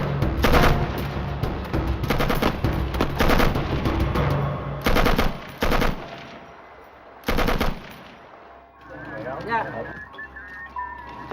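Bursts of automatic gunfire as cover fire on a Vietnam War river rescue, a sampan under attack, rattling in loud clustered volleys with brief pauses, then fading into quieter ambience with faint voices.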